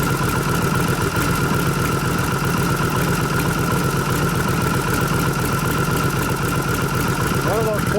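A 1989 Harley softail with a 93 cubic inch panhead stroker motor conversion idling after a tune-up, a steady loud close rumble that runs throughout with no change in pace.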